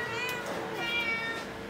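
Several cats in a crowded shelter cat room meow in overlapping calls, one after another, close and clear over a low indoor hum with no talking.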